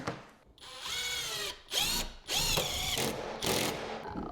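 A power drill drives a screw through a shim into a kitchen cabinet during assembly, several close, loud whirring bursts separated by short pauses, the motor pitch rising and falling with each push.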